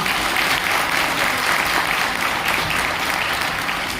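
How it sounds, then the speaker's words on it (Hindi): Loud, continuous applause from an audience at a business plan seminar, a thick wash of clapping for the guests that holds at a constant level throughout. "आप सभी के लिए जोरदार तालियां होनी चाहिए"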